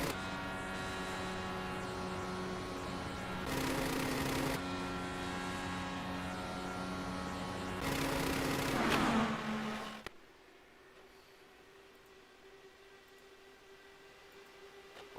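Race car engines in an iRacing sim race, a steady droning hum with rough, buzzing tones and two surges of louder revving, then the engine noise cuts out abruptly to a faint low hum.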